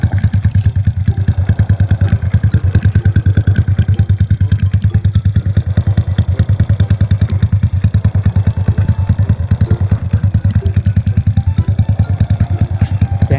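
A Honda Dream motorcycle engine runs steadily up close, a loud, rapid, even thumping idle with rattly mechanical clatter throughout, no talking.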